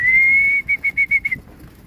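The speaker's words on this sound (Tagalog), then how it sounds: "Eto guys, may mga ibon na sa baba." A single long whistle followed by a run of five or six short rhythmic whistle bursts, close and clear, heard as racing pigeons come home from an 80 km training toss.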